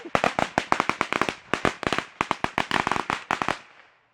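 A string of firecrackers going off close by, a rapid burst of dozens of sharp, loud cracks in uneven rhythm that stops abruptly after about three and a half seconds.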